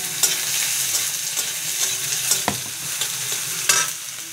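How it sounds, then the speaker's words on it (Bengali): Cashews and chopped onion fry in a pan, a loud close sizzle broken by several scraping stirs and sharp spatula knocks. "পেঁয়াজ কুচিটা দিয়ে দিলাম।"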